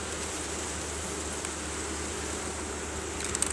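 Honeybees working on frames in an open hive give a dense, steady buzzing drone, close and constant, with no voices over it.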